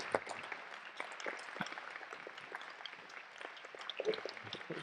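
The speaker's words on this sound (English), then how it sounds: "could we give them all a round of applause?" Luncheon audience at a Wayne County bicentennial event applauding: faint, distant scattered clapping with a room murmur throughout.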